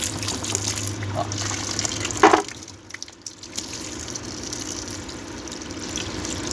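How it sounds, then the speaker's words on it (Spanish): Water running steadily from a faucet at a sink while tools are rinsed after sewer work, a continuous broadband wash with a brief louder splash partway through, close by and alone. "Voy a cerrar la canilla."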